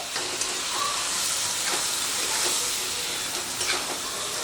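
Chickpeas being sautéed with spices in a pan for chole, a broad steady frying hiss with occasional soft stirring scrapes, close and without talk.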